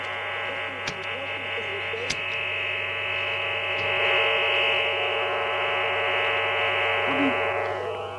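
A shortwave receiver tuned to a transmitter's lower sideband carries a dense bundle of about a dozen FSK teleprinter signals, steady warbling tones stacked over a constant hum, with a couple of sharp clicks.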